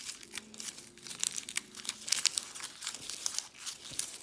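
Sheet of craft paper twisted and crumpled by hand in the middle while shaping a paper tree sculpture, giving close, crisp crinkling bursts that come and go with no talking.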